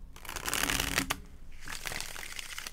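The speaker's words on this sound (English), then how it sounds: "One more shuffle, guys." A deck of tarot cards is riffled and shuffled in two quick papery bursts, close and crisp, with a short pause between them.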